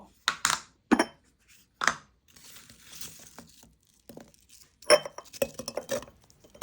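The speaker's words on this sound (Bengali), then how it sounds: "এই যে দুটো জার নিলাম এই জার দুটোর ভিতরে এই ফ্রুটসগুলিকে উঠিয়ে নেব" Pieces of cut fruit, including papaya, drop into two glass jars, giving a handful of sharp clinks and knocks between quiet pauses, with some soft rustling and scraping in between.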